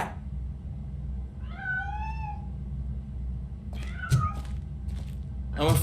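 A cat meows in RoboCop: Rogue City, one clear rising-and-falling meow near the middle and a shorter one later, over a steady low game hum with a brief thump near the end.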